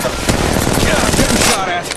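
Rapid automatic gunfire from Apex Legends Mobile pours out in a dense, loud burst of close shots lasting a couple of seconds.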